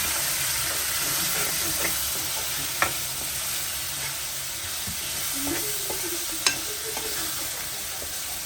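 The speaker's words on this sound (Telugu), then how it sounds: "ఇప్పుడు ఇవన్నీ బాగా మిక్స్ చేస్తాం" Salt and turmeric are stirred into a sizzling pan of dried mackerel and tomato curry, with a steady hiss and a few sharp spoon knocks against the pan, close and continuous.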